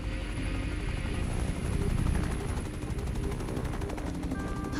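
A helicopter hovers in the video game inFAMOUS First Light, a loud steady rotor drone with rapid thudding pulses, accompanied by ongoing gunfire and no talking.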